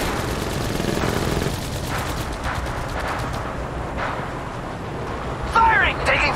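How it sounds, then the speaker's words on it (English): Sustained automatic gunfire in Apex Legends Mobile, rapid rattling bursts with layered shots from a firefight, loud and continuous, ending with a sharper crack and a short burst of game sound effects. "Firing! Taking fire! Shots fired!"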